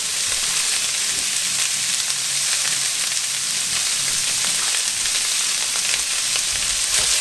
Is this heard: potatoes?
yes